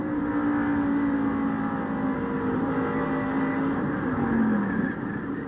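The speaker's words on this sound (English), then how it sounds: "Now the real-time in-car camera shot from Ernie. Turn 1, down in the corner. Listen" A 1990 race car engine at the Pikes Peak climb, captured by an in-car camera through the first turn, loud and close, with a continuous high engine drone that holds steady, then dips briefly as the driver lifts and the pitch drops.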